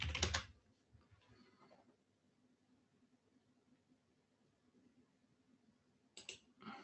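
Computer keyboard typing comes as quick clattering key bursts at the start and end, with a quieter patter in between, close and alone.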